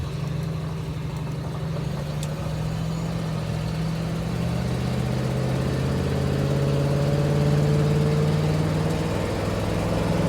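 International Harvester 345 V8 truck under way on a test drive, a steady low engine drone rising slightly as it pulls, continuous and close throughout with no talk.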